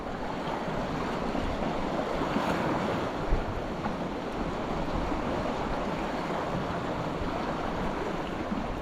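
Strong, relentless wind buffets a rain-soaked sandy shoreline during solo bass lure fishing, a continuous loud roar of gusts and microphone buffeting blended with surf wash, steady throughout with no talk.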